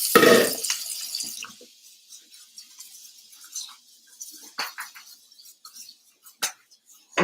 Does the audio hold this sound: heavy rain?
no